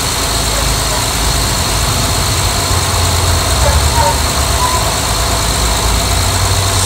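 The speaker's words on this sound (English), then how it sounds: "Start the engine now." A car engine idles steadily after a jump start from a portable battery jump starter, a loud, close, continuous rumble with no talk.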